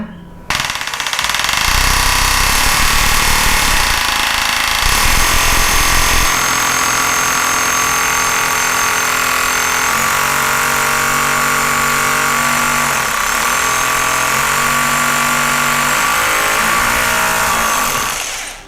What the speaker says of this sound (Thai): เดี๋ยวผมเปลี่ยนเป็นกระแทกแล้วก็ค่อยๆกดนะครับ